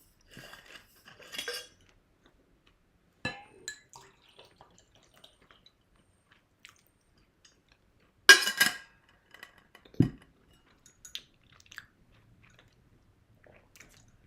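Chocolate is chewed right next to a microphone: sparse, crisp crunching and biting bursts separated by near silence, with one louder crunch about midway.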